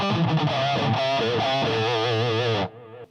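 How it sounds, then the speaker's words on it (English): An electric guitar played through an Electro-Harmonix Metal Muff pedal set to light distortion rings out as a sustained, gritty, overdriven chord with wavering harmonics, then cuts off abruptly near the end. "So now I just have a bit of distortion going."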